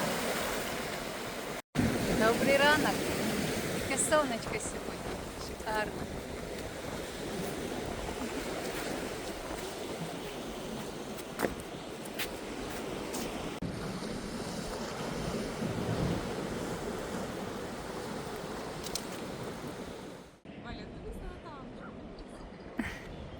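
Steady roar of strong wind buffeting the microphone over crashing surf at the Black Sea shore in Fontanka at dawn, continuous and loud for the whole stretch with a brief dropout near the end.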